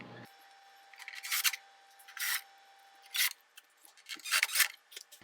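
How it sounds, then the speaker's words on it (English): A screwdriver driving four screws back into the panel of a Craftsman belt-drive garage door opener, heard as several separate close bursts of rasping, grinding turns with short pauses between them. "we will go ahead and screw those 4 screws back into place"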